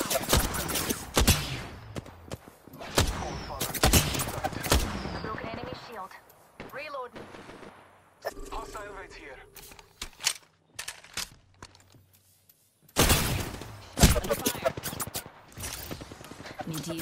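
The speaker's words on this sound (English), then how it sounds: "Being shot at. I'm taking fire." Gunfire in the Apex Legends battle royale game, heard as rapid loud volleys and single cracks in several bursts, with quieter stretches of game sounds and a near-silent gap before the shooting resumes.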